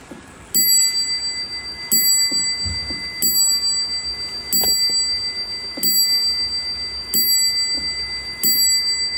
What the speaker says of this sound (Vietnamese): tiếng chuông rất là vang nha anh em